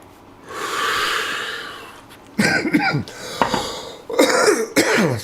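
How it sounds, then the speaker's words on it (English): A person coughs repeatedly in harsh, close bursts, with a few sharp throat-clearing coughs and breathy gasps after a stretch of steady background noise. "Excuse my coughing."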